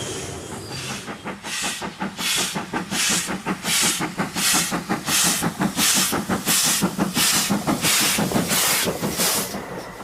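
A Great Western Railway steam locomotive working hard, giving rhythmic chuffing blasts of hissing steam that repeat steadily and pick up slightly in pace, loud and close with no talk.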